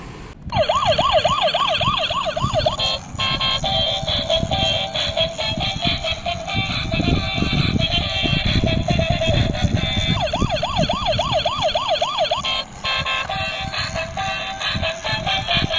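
Toy police bus siren wailing in a loud, rapid up-and-down electronic sweep, repeating steadily over a busy backdrop of rattling toy noise, with a brief break midway before the sweeping tone resumes.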